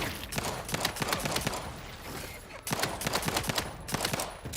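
Rapid bursts of automatic gunfire crackle through a video game shootout, dense volleys of shots repeating loudly with a brief lull midway.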